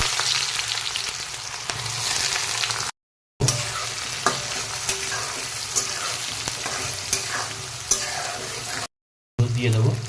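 Onions and dried chillies fry in hot oil for a chicken feet curry, a steady loud sizzle with scraping stirs throughout and two short breaks in the sound.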